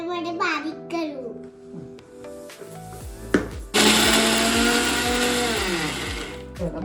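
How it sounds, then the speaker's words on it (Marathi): A mixer grinder whirs loudly as it grinds green chillies, salt and cumin into a paste, its motor spinning up and running steadily after a short stretch of speech and clatter. "आता आपण मिक्सरमध्ये बारीक करू"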